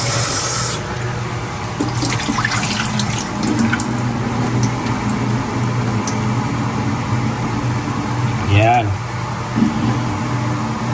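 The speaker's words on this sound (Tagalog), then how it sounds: "una, hugasan muna natin tong chicken breast." Tap water running into a kitchen sink while a chicken breast is rinsed, a steady rushing splash that continues throughout, with a person talking nearby over it.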